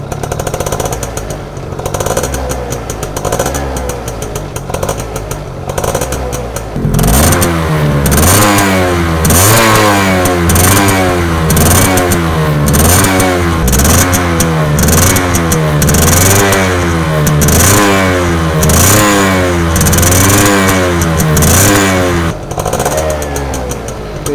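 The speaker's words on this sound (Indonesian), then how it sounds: "kalau suara knalpot standar yang belum bedel itu ternyata enak ya" A 1999 Yamaha F1ZR motorcycle with a standard, unmodified exhaust revs repeatedly in rhythmic bursts, climbing and dropping in pitch, loud and close, after a rougher idle at the start.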